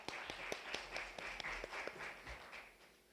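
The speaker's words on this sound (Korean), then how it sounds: "박수로 맞이해 주시기 바랍니다." Sparse, faint audience clapping welcomes a presenting team at a Korean data competition results event, with individual claps sounding in a loose, uneven rhythm.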